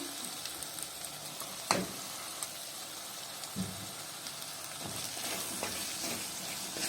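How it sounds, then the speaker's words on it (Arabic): Fava beans sautéing with onion and spices in a pan, a continuous soft sizzle and hiss with occasional stirring scrapes and clinks, close and fairly quiet. "اشوحه على البصله اشوحه كده، وانزل عليه بالتوابل بتاعته اللي معايا."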